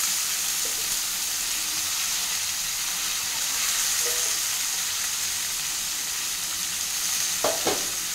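Raw banana pieces cut small like potato fry sizzle steadily in an oil-filled pan while a utensil stirs them, with a constant frying hiss and a few scraping clinks near the end.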